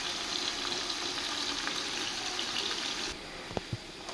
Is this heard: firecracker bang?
no